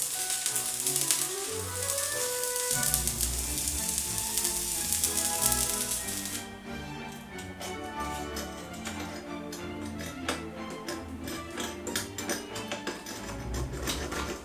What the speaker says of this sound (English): The flange is welded at the required angle to the T-bracket, and the piece of steel is welded below as well for stiffness